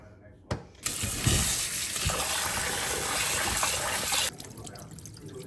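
Soaked red lentils are washed under running water, with a steady close splash and gush from the tap lasting several seconds before it cuts off, and a voice briefly heard around it.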